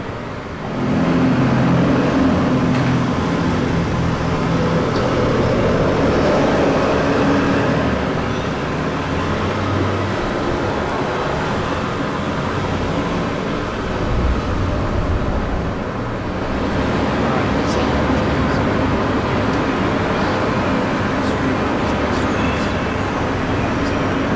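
Steady roadway noise of passing cars and buses in Randwick, a continuous broad rumble with engines swelling and fading, fairly loud, no voices.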